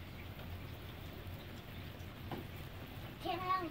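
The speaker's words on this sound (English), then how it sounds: "too bad it's just raining too" Rain patters steadily on wet, slushy snow outdoors in winter, a constant hiss with a brief stronger swell near the end.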